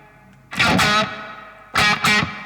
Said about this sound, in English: It's a really nice reverb.